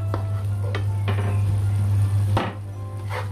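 Dendeng balado, beef in a reducing chili paste, fries in a pan while a spatula stirs and scrapes it in several separate sweeps over a low steady hum, with no talk.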